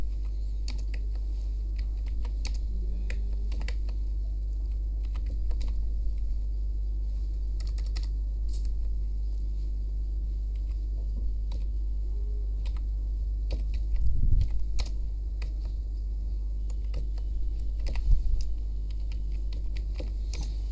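Keys clatter steadily on a computer keyboard while a page bio is written, a soft continuous patter of close keystrokes under a low hum, with a couple of louder bursts; no one speaks.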